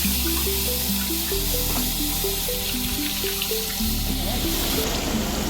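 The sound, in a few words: second coconut milk pouring into the pan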